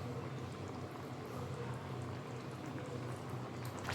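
Covered mourola fish curry with mustard paste and mustard oil simmering in a pot, a steady close bubbling hiss and gurgle running throughout with no voices.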